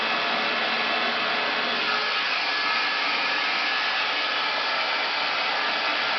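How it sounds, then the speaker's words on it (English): A hair dryer blows steadily and loudly close by while hair is blow-dried, a continuous broadband whoosh with no pauses or talk. "And then I'm blow drying."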